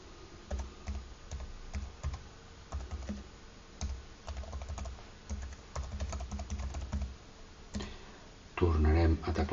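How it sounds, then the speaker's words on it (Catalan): An email address is typed on a computer keyboard in quick, uneven bursts of close clicking keystrokes, and a voice briefly speaks at the end. "Tornarem a teclejar el correu."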